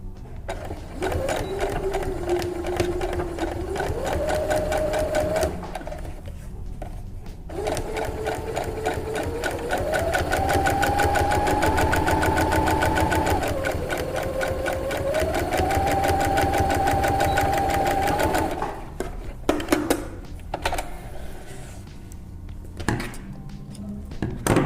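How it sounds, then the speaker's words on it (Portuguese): Sewing machine stitching a French seam with a half-centimetre margin on a dress, a loud continuous motor whine close by whose pitch rises and falls with speed, pausing briefly before a few short bursts. "E aí a gente costura com margem de meio centímetro novamente."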